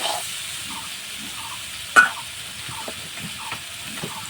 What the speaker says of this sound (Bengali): দেবো একটু লঙ্কার গুঁড়ি, তো হালকা একটু নাড়াচাড়া করে নেব।